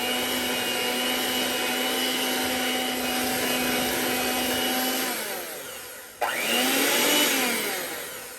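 An electric hand mixer beating sweet potato pie filling on low, a steady whirring hum that dips and cuts out briefly, then restarts and spins up again before slowly fading, with no talking.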